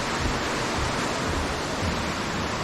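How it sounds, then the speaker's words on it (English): Brandywine waterfall in the bush, a steady, dense rush of falling water heard close and fairly loud, with no voices. "We have the waterfall right here."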